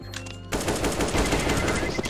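Rapid automatic gunfire erupts in Counter-Strike: Global Offensive after a brief quieter moment, a dense, loud, continuous burst of shots filling the rest of the moment.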